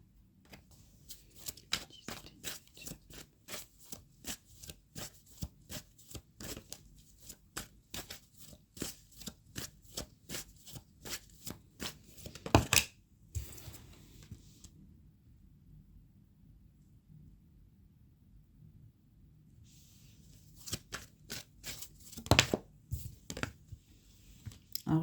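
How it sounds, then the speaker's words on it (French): Tarot cards shuffled and drawn by hand, a long run of quick crisp riffling snaps, then a pause and a few more card flicks and slaps near the end, close and fairly quiet. "Par contre, là, je prends une carte."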